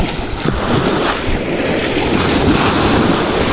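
Sea waves wash steadily and loudly against the shore in open water, a broad continuous surf roar with gusts of wind buffeting the microphone throughout and no voices.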